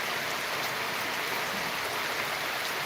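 Rain pours steadily onto a soybean farm field, an even, close, unbroken hiss with no voices.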